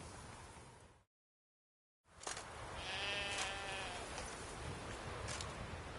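Sheep bleating in The Witcher 3 game, a wavering, nasal bleat rising in the middle of the clip after a brief silent gap, set over a steady outdoor ambient hiss.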